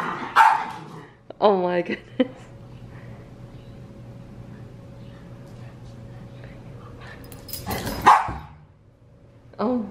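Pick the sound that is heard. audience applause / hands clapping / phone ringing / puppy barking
puppy barking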